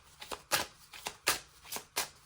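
A deck of oracle cards is shuffled by hand in a quiet room, with five or six crisp riffling bursts in a loose, steady rhythm and short pauses between them.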